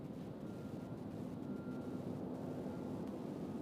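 Boeing 747 jet departing from Louisville UPS Worldport, a distant steady low engine roar and rumble with a faint hum, continuous and fairly quiet, no speech.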